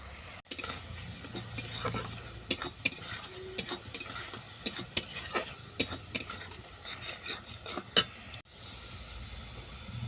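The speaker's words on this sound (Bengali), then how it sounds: "মশলাটা আমার কষানো হয়ে গেছে" Spices stir-fried in a pan for cauliflower and potato curry, with a soft background sizzle broken by repeated scraping and clinking of a spatula against the pan, close by.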